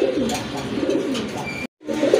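A pair of Gorra pigeons, a silver-coloured male and a dun-coloured female, coo continuously in low, rolling calls close by. A short silent gap interrupts them before the cooing resumes, and no one speaks.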